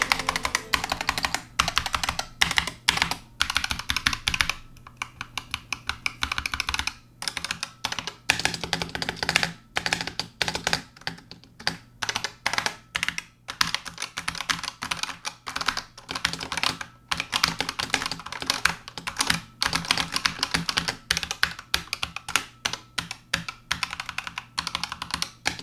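Rapid, continuous typing on a loud gaming keyboard, with dense clattering keystrokes close to the microphone for the whole stretch and no voices.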